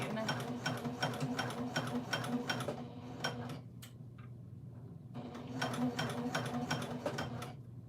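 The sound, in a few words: sewing machine stitching a backpack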